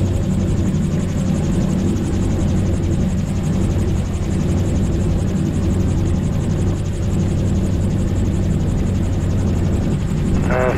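A gyrocopter's engine and rotor produce a loud, steady droning roar that fills the whole stretch without letup, with a faint buzzy tone rising briefly near the end.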